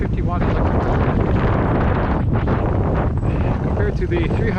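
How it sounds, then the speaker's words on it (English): Strong gusty wind buffets the microphone outdoors, a loud, continuous roaring rush that stays steady for the whole stretch with no talk over it. "very windy today"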